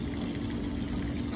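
A washing machine filling with water, a steady gushing rush of water with a low pump hum underneath, constant and fairly close.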